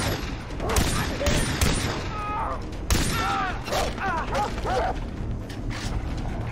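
Gunfire in the video game Far Cry 3, with dense, repeated sharp bursts of shots over a busy, noisy battle backdrop, and a voice calling out partway through.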